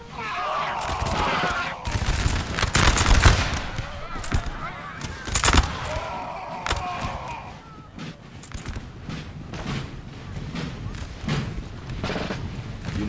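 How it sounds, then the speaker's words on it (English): Massed musket volleys crackle across a Napoleon Total War battlefield, with repeated sharp bursts of gunfire and booms near and far over battle ambience, and a voice talking intermittently throughout. "Fire a volley."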